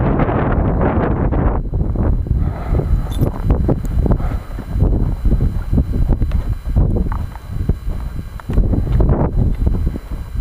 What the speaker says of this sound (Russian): Ветер сегодня южный, такой приличный.